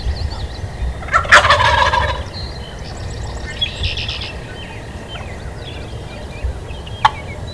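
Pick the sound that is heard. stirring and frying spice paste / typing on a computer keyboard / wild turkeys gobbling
wild turkeys gobbling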